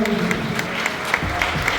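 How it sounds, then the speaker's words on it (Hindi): An audience at a railway track maintainers' conference in an institute hall gives steady, dense applause, with individual claps standing out over the crowd throughout. "एक जोरदार हाथ ताली हो जाए"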